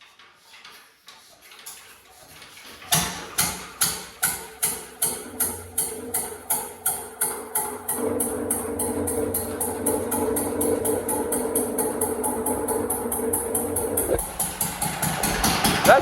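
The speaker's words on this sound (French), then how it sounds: "Il démarre vraiment en quart de tour, mes moteurs." An engine that has sat unused for several months cranks over with a rapid series of loud strokes, catches and settles into a steady, close idle that runs on without interruption.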